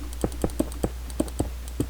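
A loud computer mouse clicks about eight times at an uneven but steady pace while building in Minecraft, each click sharp and close to a sensitive microphone, with no talking.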